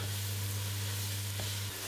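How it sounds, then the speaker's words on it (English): Steady frying sizzle from leeks in a hot pot, with a constant low hum underneath and a faint clink near the end; no talking. "Gently return them to the comfort of the sizzling pot."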